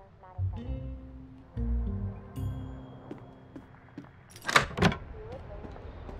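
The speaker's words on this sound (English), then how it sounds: "I should get the door." In the Elroy and the Aliens video game, an apartment door is unlocked and opened, a sharp key-and-latch rattle and clunk coming late, after game voices and musical tones.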